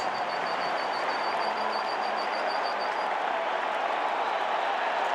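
Baseball stadium crowd roaring after a postseason home run in a 2010 NLCS playoff game, a loud sustained cheer with whistles, building as fans call for a curtain call.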